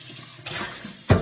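Running water splashes over clams being washed in a kitchen sink for a cream sauce with chorizo, a short close rush of water with a louder splash at the end.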